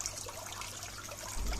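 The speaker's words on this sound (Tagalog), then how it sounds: "Ang sarap pakinggan ng daloy ng tubig" Water trickles and drips in a soft, continuous wash with faint splashing, a quiet, steady flow heard alone without any voices.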